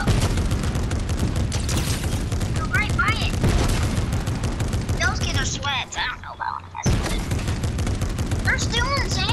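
In the Fortnite video game, rapid, loud gunfire is aimed at a tank and keeps going almost without a break. It stops briefly and then starts again, while players talk over the shooting.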